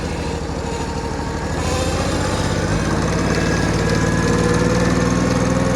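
A John Deere 322 lawn tractor engine runs steadily and rich, a continuous loud, rough mechanical drone with a dense low rumble that holds without pause throughout.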